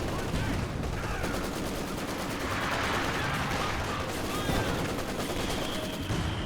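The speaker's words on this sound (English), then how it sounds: "So you got this machine gun out there." Dense, continuous gunfire rattles through a Company of Heroes 2 battle, with overlapping machine gun bursts and distant rumbling blasts filling the whole stretch at steady loudness.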